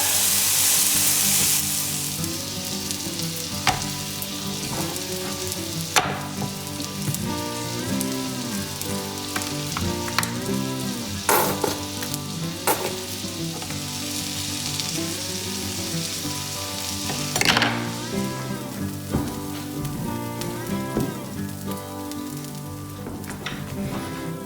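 An elk burger patty sizzles and fries in a pan, with a steady crackling hiss and occasional louder pops and spatters, close and continuous with no talk.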